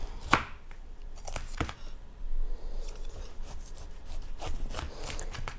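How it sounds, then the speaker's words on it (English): A sharp Rada slicer knife cuts through a pineapple on a board, with a few crisp chopping and slicing strokes spaced out over a quiet background, close and moderately loud, with no talk. "So I'm gonna cut the end off first."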